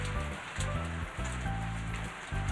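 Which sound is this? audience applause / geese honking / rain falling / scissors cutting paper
rain falling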